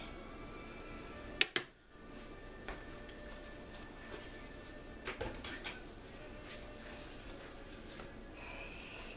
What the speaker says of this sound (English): And we're going to slice it.